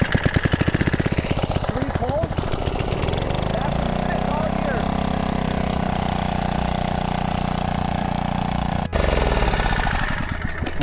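A small engine is pull-started with the choke on, giving a loud, close, rapid chugging rattle that sputters without catching, then a brief pause and another burst of pulsing.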